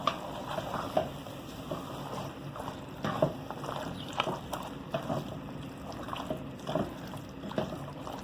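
Achar gosht meat with its seasoning is stirred in a pan, giving soft, repeated scraping and wet squelching strokes at a quiet level.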